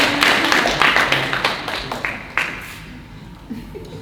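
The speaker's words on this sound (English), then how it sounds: "Big round of applause for the Hans Christian Andersen literature sausage." A crowd claps in hearty applause at a live arts show, dense at first, then thinning to scattered single claps as it dies away over a few seconds.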